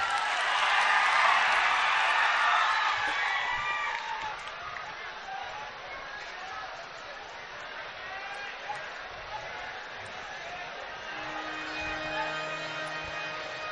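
A live audience claps for Jigneshbhai at a Gujarati folk dayro, a dense, loud burst of applause and crowd noise in the first few seconds that fades to scattered, softer clapping and murmur.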